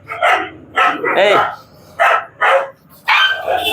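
A dog barks in several sharp, close bursts at an uneven pace, with a voice mixed in among the barks.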